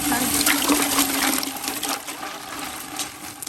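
Ice clatters and splashes into a container of water being readied as a turkey brine, a broad continuous wash of noise that fades gradually, with faint talk in the background.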